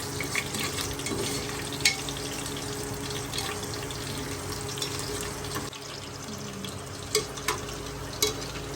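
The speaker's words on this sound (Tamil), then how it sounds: "பூண்டு போட்டுருங்க. கொஞ்சம் அப்படியே தாளிச்சு விடுங்க." Garlic sizzles as it is tempered in hot oil with cumin, a continuous soft frying hiss with occasional clinks of a utensil, moderately quiet and close.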